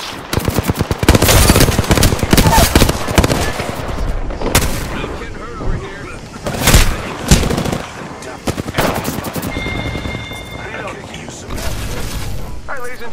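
Rapid automatic gunfire from a weapon in the video game Apex Legends, loud bursts of repeated shots with brief pauses, mixed with game effects and mechanical clatter throughout.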